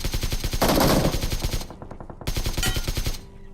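Rapid automatic gunfire rattles in a battle royale video game, loud dense bursts of shots with a short pause between two volleys, heard alone without talk.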